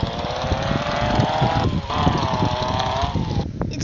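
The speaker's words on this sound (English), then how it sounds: "The fire truck sounds different." A fire truck's engine in a video game drones on as a continuous, loud motor tone with steady harmonics, dipping briefly twice.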